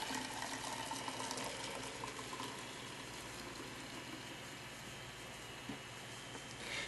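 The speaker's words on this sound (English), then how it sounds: "So, again, we pour it through." Carrot juice is poured through a strainer, a faint, steady trickling and splashing of liquid, close by and continuous with no talk.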